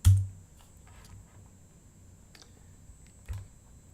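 A few keystrokes click on a computer keyboard, close and quiet, with a sharper tap at the start and another later, over a faint steady background hum.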